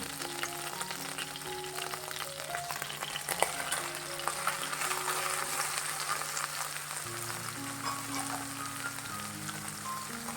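Mushrooms fry until golden brown in a pan while making white sauce penne pasta, giving a steady, even sizzle and crackle that runs unbroken for the whole stretch, with faint scraping stirs and a low background hum.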